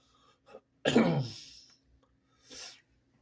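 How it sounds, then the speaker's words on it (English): A single harsh cough bursts out loudly near the start, trailing off, followed later by a shorter, fainter throat-clearing rasp; quiet room otherwise. "Excuse my coughing."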